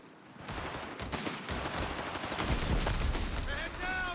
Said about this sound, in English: Machine gun suppressing DexN